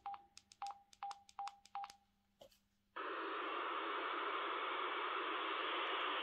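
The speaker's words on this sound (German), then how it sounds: "Wenn ich es wegnehme, reduziere, dann hört man es rauschen." Radio static hiss with the squelch turned down: a run of beeping dial-like tones and a short click first, then a loud, steady broadband hiss that stays unbroken to the end.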